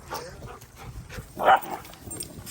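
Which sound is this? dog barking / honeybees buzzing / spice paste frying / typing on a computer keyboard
dog barking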